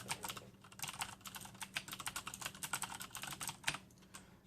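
Typing on a Corsair K70 keyboard with Cherry MX Blue switches makes a quick, irregular stream of crisp clicky keystrokes, close and fairly quiet, with no talking.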